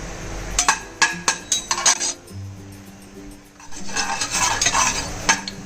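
Tempering spices crackle and sizzle in hot oil in a pan while a metal spoon stirs and clinks against it, with repeated scraping strokes, a quieter sizzling pause in the middle, then more vigorous stirring close by.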